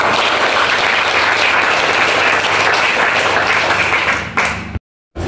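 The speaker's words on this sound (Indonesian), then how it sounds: "Tanda dibukanya kegiatan ini kita tepuk tangan sama-sama." Audience applause opening a freshwater fish processing training event held by a district fisheries office in Maybrat, loud sustained clapping from a large crowd filling the space, cutting off abruptly near the end.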